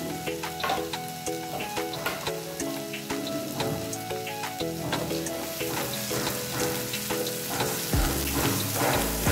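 Chicken liver and onions frying in a pan, a loud continuous sizzle with dense crackling pops and occasional stirring scrapes, close up and without talk.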